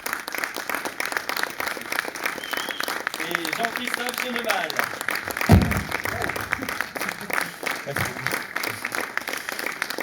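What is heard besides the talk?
audience applause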